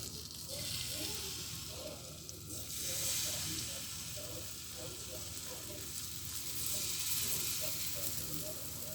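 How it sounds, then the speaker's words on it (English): Pancake batter fries in butter in a pan, giving a steady close sizzle that rises and falls slightly across the whole stretch, with faint background sounds of a kitchen. "So I'll just finish up my pancake mix here, but obviously I've got no oil, so I'm cooking them in butter."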